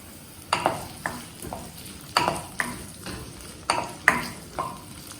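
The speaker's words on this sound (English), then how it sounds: "Stir." Honey chilli potatoes with roasted sesame seeds being stirred in a pan, with repeated scraping and clinking strokes in an uneven rhythm of about eight sweeps over a light background sizzle, close and fairly loud.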